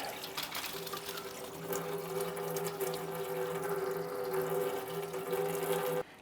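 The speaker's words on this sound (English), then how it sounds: "Now that our radiator is drained out" Coolant drains from a 2005-2010 Chrysler 300 radiator into a catch can as a steady, close trickling pour with a faint humming tone under it, cutting off abruptly at the end.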